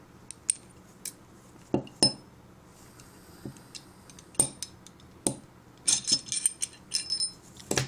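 The barrel is taken out of a stripped Ruger SR40c pistol, heard as a series of sharp close metallic clicks and clinks spread irregularly, with no talk.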